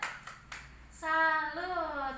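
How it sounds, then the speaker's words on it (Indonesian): A short rhythmic clapping chant, tepuk salut, done in a group training session: a few sharp separate claps, then a held sung or called-out voice line. "Coba dulu saya pengen tepuk salut."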